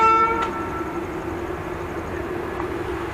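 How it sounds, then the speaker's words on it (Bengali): A train horn sounds at a station at the start, a loud sustained tonal blast that fades within a second, leaving steady low rumbling railway noise and idling engine hum underneath. "এই যে ট্রেন সিটি মেরে দিয়েছে"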